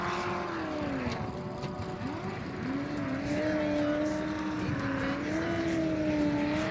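Race car 03 Full Tilt on a track in Yakima, Washington, engine droning loud and steady with a wavering pitch as it rises and falls through the run, close to the listener, under a noisy crowd and ambient background.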